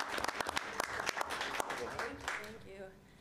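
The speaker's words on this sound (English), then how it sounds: "Round of applause" Audience at a high school board of education meeting applauds as a coach is called up, a dense burst of clapping that tapers off over a few seconds, with a voice speaking over the end.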